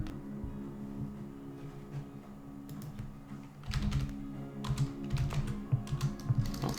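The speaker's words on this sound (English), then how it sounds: "If I can type in chat." Steady clatter of a computer keyboard being typed on while chatting in a game, soft and close, with quick bursts of keystrokes getting busier toward the end.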